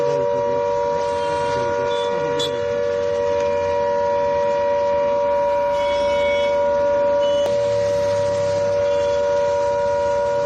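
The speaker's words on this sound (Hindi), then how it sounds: "बिल्कुल सायरन की आवाज" A civil defense siren holds a steady, droning tone for the whole stretch during a blackout in Uttar Pradesh, India, loud and unbroken, over a low rumbling background with no speech.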